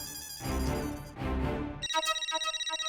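A telephone rings out in steady repeated pulses while a call is placed to Bhide. Louder indistinct sound comes first, then the ring carries on alone.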